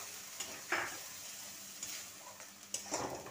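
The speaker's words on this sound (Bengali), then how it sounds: "আমি এতে অল্প একটু জল দিচ্ছি।" A little water goes into a hot pan for a chilli sour chicken curry, giving a faint, soft sizzle broken by quiet stirring scrapes at a low level.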